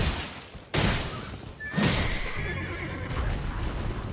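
A horse in Elden Ring whinnies loudly with a rising, strained cry, followed by a second neigh, over a busy game background of rumbling and clatter.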